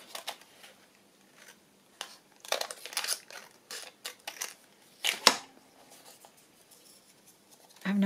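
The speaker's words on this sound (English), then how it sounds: "Maybe just cut it down the middle." Paper being cut for a handmade journal, giving scattered soft snips, rustles and handling noises with pauses between, close and fairly quiet, ending on a brief louder rub.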